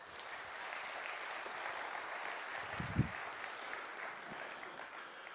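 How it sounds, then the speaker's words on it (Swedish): An audience at a summer church service applauds, a steady wash of clapping held at moderate level for several seconds with a faint voice briefly underneath. "Ge dem en liten applåd tycker jag."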